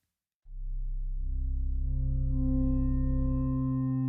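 An Omnisphere synth pad with a long attack and full sustain slowly swells in from silence, its bright harmonics building gradually into a sustained, steady tone.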